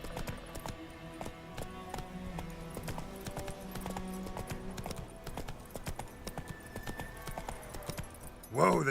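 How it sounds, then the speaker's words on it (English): A horse's hooves clip-clop at a steady walking rhythm in the video game Witcher 3, moderately close and fairly quiet, with a voice speaking over them and a brief louder burst at the end. "Whoa there, Roach"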